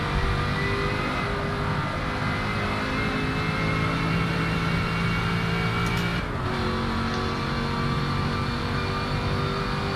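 Car engine in the Forza racing video game, a loud continuous droning roar with steady tonal whine, briefly dipping once midway as the car brakes.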